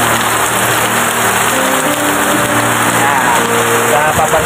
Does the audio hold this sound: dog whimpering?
no